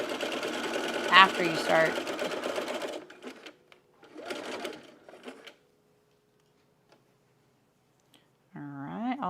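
A sewing machine runs in a long steady burst while stitching a stretched seam on a bralette, then stops. Someone talks over it, and a short second run of stitching follows. Another short run comes near the end.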